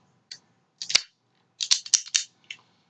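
Cutter snipping the cap off a RomaCraft Aquitaine toro cigar, a handful of sharp, close clicks and snips in short bursts with quiet gaps between them.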